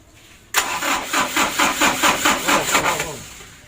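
A diesel engine with a Bosch injection pump cranks over on a slow starter, giving a rhythmic chugging of about a dozen even, loud pulses before it fades out.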